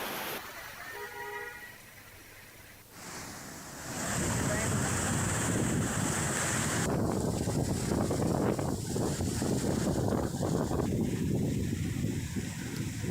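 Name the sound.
flooded Latiya drain rushing after torrential rain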